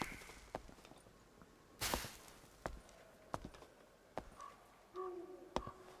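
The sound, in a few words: footsteps in Dark and Darker video game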